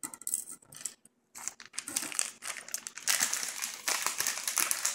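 Close crinkling of a plastic parts bag as two 22-volt Zener diodes are pulled out during circuit board assembly for an ignition/EFI build, irregular rustles and small clicks with a brief pause midway.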